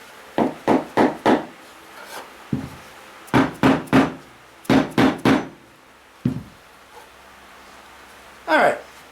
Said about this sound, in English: with our block of wood and our dead blow, just going to make sure that that's all hammered down there like that